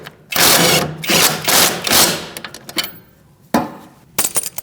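Tool work tightening the front sway bar link nut on a 2008-2014 Mercedes-Benz C300, heard as a run of close, loud ratcheting bursts and clanks that grow sparser, then one more short burst and a few clicks.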